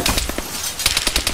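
Gunfire in the military shooter game Antistasi on Altis: a rapid string of loud, sharp shots in bursts, close and dense, with no talk.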